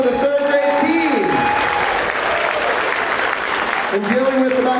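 A school audience claps loudly for the third grade team in one continuous round of applause, with voices heard over it.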